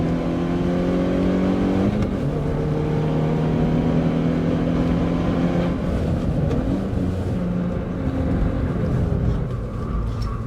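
A Hyundai i20 N hot hatchback engine revs loud and close, its pitch stepping up in quick rev-matched blips as gears change, with no talking.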